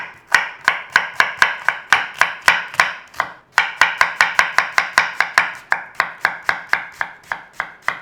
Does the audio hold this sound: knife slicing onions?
yes